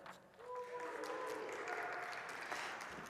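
Church congregation clapping and whooping in a sermon setting, a scattered patter of applause with a few high cheers, moderately distant and fairly faint, swelling and holding for a few seconds.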